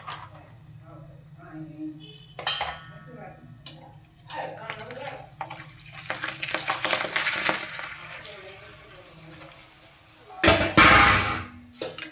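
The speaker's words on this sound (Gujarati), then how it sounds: "હવે આપણે ભૂંગળા તળી લેવાના છે" Hot oil sizzles up in loud bursts as sun-dried potato bhungla snacks are dropped in to fry, with a person talking between and under the frying.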